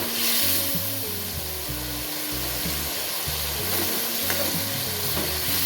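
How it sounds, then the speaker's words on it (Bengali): Pieces of lote (Bombay duck) fish frying in hot oil in a pan give a steady, dense sizzle with soft scraping and stirring sounds throughout, close and fairly loud, no voices. "আমি লোটে মাছগুলো ছেড়ে দেবো হালকা একটু ভাজা ভাজা করে নেব"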